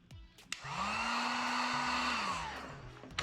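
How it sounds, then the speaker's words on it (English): A heat gun blows a steady airy whoosh onto vinyl wrap material for a couple of seconds, rising after a couple of clicks and then tapering off, close and fairly quiet. "I got a little bit of a wrinkle here, so I'm gonna hit it with the heat gun"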